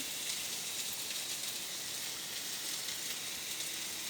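Potatoes frying in a pan for a rohu fish curry give a steady, faint, even hiss of sizzling oil with no pauses, resembling light rain and heard alone without talk.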